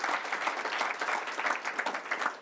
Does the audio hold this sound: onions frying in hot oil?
no